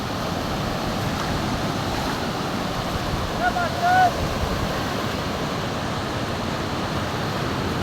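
Morning sea waves wash onto Kuakata beach in a steady, broad surf roar with light wind, and a faint brief voice surfaces midway.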